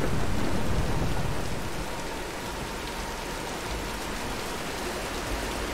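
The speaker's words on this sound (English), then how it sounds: "let's wait out the storm" Heavy rain pours steadily during a thunderstorm in the video game Tomb Raider, a dense loud hiss with low rumbling underneath and no voices.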